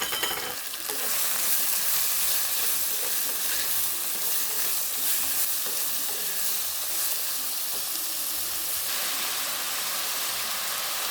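Onions, shallots, curry leaves and ginger sauté in a pan, making a continuous loud sizzle with faint stirring underneath and no voices.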